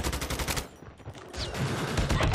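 In a video game, an M4 rifle lets off rapid automatic bursts that crack loudly and close. The fire stops briefly around the middle, then another dense volley follows.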